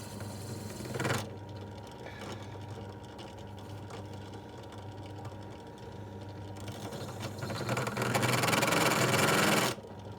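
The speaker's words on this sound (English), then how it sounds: "we're going to use a countersunk bit to, countersink it." A drill with a countersink bit countersinking screw holes while fitting an autopilot on a sailing yacht, heard as two sustained, gritty whirring bursts with a quieter stretch between them. The second burst is longer and louder.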